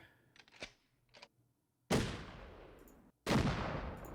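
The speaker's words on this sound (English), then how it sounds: "this is the sound of a shotgun being loaded" A few soft metallic clicks and clacks of a shotgun being handled, followed by two loud, sharp blasts with long decaying tails.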